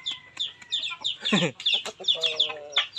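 Aseel chickens let out into the open cluck and call repeatedly at close range, with overlapping bursts of squawky, rising clucks filling the whole stretch without any talking.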